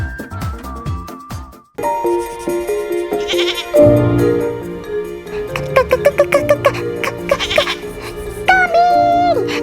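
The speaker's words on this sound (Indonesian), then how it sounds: "Kambing!" A goat bleats several times, loud and close, its calls rising over a busy background of music and other sounds.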